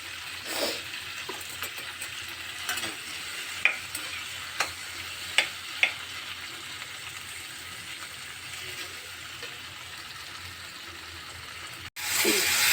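Tomatoes with garlic soften in a pan for tomato pachhadi, giving a low, steady sizzle with scattered scraping clicks of a spoon stirring, fairly quiet and close, and a brief louder burst at the end.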